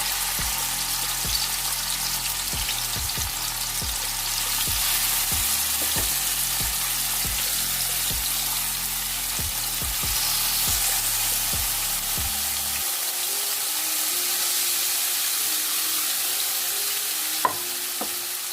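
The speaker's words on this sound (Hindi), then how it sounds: "ऑयल गर्म हो चुका है, आंच हम इसके नीचे आहिस्ता कर देंगे और अब हम इसके अंदर ये स्टिक्स रखना स्टार्ट करते हैं" Chicken tawa botti sticks fry in hot oil on a tawa with a steady loud sizzle, broken by repeated clicks and taps of sticks being placed during the first part.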